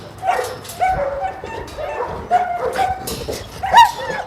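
A dog barks at a wolf in short, high yips and whimpers, several bursts spaced through the clip, close and fairly loud.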